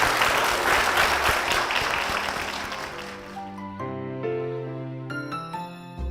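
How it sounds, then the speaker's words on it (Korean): A church congregation applauds loudly with dense clapping that fades out after a few seconds, followed by soft organ or keyboard notes. "이 두 분을 위해서 큰 박수 부탁드리겠습니다."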